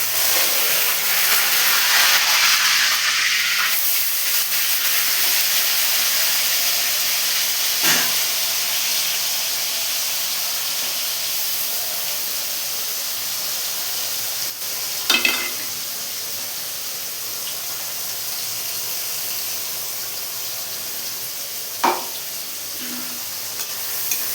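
A paste of onion, green chilli and tomato hits hot oil in a pan for chicken kosha, giving a loud, steady hiss and sizzle that slowly settles, with a few faint clinks of stirring.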